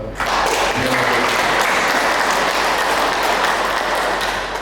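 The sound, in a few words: applause for library office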